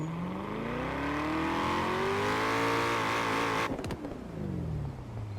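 A heavy Hoonigan Ford Bronco off-road truck engine in the video game Forza Horizon 4 revs up loudly with a steady rising drone, then cuts off abruptly, leaving a lower rumbling idle.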